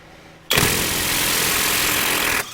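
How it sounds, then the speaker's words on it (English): A budget impact wrench set to reverse at full power (rated 886 foot-pounds) on a crankshaft bolt of a rusty engine: one loud, sustained, buzzing burst of about two seconds after a quiet start, cutting off sharply. "Got it on reverse, which is full blast. 886 foot-pounds of nut-busting power."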